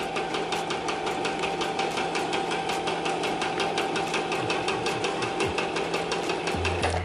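A sewing machine stitches fabric for a two-piece set made from a romper or jumpsuit, a fast steady mechanical clatter running loud and close for the whole stretch with no talking.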